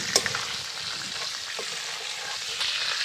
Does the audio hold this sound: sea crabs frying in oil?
yes